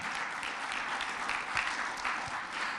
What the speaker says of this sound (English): And let's give our sponsors a round of applause for making this possible.